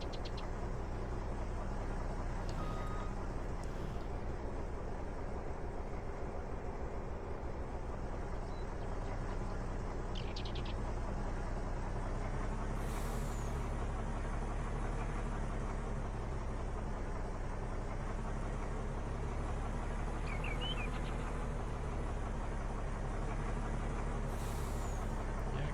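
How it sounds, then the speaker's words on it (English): A truck in Farming Simulator 19 drives with a steady, continuous engine drone throughout, broken by a few brief hissing air brake releases that stand out above the constant rumble. "I'm wondering if this truck will even make it up there empty."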